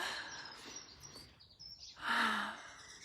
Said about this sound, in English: share this sunshine and bird song and nature with you all